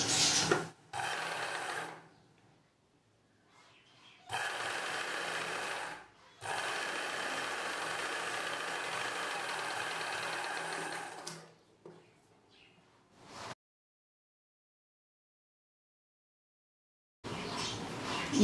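A sewing machine stitches a blouse belt, running in several sustained bursts with short pauses between them, then stopping into silence before a final brief run.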